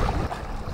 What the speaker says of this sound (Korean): 지금 바람이 생각보다 굉장히 강하고 조류와 반대로 지금 바람이 불고 있습니다.